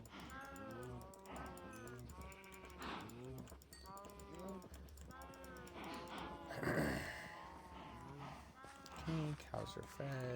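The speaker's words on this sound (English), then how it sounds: "let's quickly feed the cows" Cows mooing while being fed in the video game Minecraft, several drawn-out lowing calls repeating one after another, fairly close, with a person talking over them.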